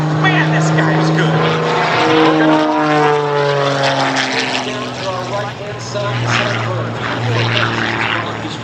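An MXS-RH high-performance aerobatic propeller airplane performs at the Columbus air show, its engine droning loudly with shifting, sweeping pitch as it maneuvers, while an announcer talks over it on the PA.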